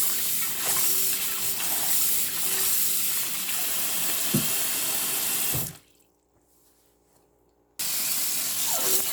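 Tap water runs steadily into a sink as fresh green beans are rinsed for a side dish, with a few clunks partway through, then a two-second pause before the flow starts again.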